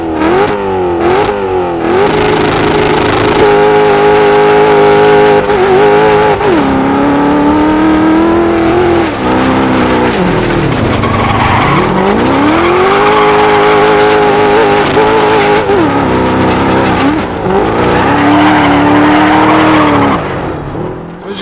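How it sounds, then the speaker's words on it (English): A 700-horsepower V8 trophy truck roars continuously in the Dirt 4 racing game, loud and close, its engine note rising and falling through repeated revs and gear changes for the whole stretch, with no talking. "we have 700 brake horsepower on this V8 in this damn trophy truck"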